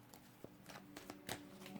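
Tarot cards being shuffled by hand, soft close riffles and slaps in a few irregular bursts, fairly quiet with faint room hum underneath.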